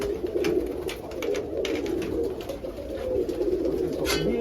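Pigeons coo steadily inside a coop, several birds overlapping in a continuous low warbling murmur, close by and fairly loud, with occasional rustles and flutters.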